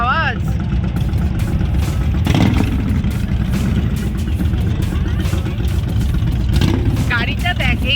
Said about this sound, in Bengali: আর ঠিক তখনই এই গেটের সামনে এসে হাজির বিশাল একটা বাইকের র্যালি